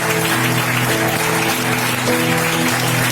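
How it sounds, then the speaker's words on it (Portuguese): Church congregation applauding at an evangelical service in Barcelona, a steady dense wash of clapping lasting a few seconds, loud and close, heard over a low sustained tone from music or room sound. "Mais uma salva de palmas para Jesus"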